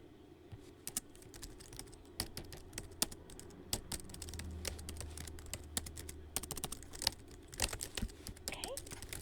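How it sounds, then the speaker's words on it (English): Rapid, uneven keystrokes clatter on a computer keyboard at close range, with soft speech and quiet handling noises beneath the tapping. "I will type your response exactly as you say it"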